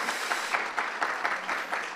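Audience applause at the opening ceremony of a startup school, a sustained wash of claps with slight rhythmic swells, steady and moderately loud for about two seconds.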